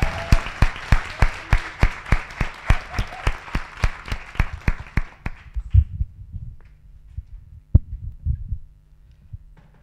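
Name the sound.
audience applause at inauguration event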